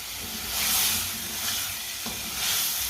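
Mixed vegetables fry over raised heat while a spoon stirs them, making a close, continuous hissing sizzle that swells and eases in slow waves, with a faint scrape near the middle.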